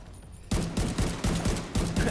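Gunfire in the video game The Division 2: a rapid burst of about six loud, punchy shots at a steady rhythm that cuts in abruptly after a quiet start.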